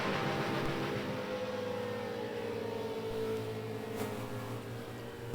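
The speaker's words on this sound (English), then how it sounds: "You could hear that engine wind way back down." A drag racing car's engine at an NHRA Division 3 meet at Gateway Motorsports Park, droning loud and steady with strong low harmonics before easing back as it winds down, with no talk over it.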